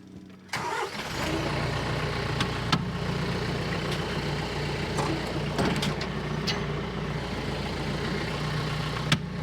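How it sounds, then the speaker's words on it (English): A TYM 574 tractor fitted with a land grader starts up and then runs at a steady rumbling idle, close by, with occasional clanks and knocks over the drone. "I'll just get back on the tractor and hit it."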